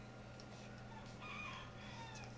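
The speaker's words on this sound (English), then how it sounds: "Yep, and then there's my rooster out there confirming." A rooster crows faintly from outside, its call thin and distant beneath a steady low hum, with no one speaking.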